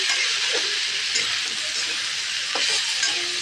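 Dhenki shak greens with salt and turmeric sizzle steadily in a frying pan as a spatula stirs them, with soft scraping strokes over continuous frying hiss.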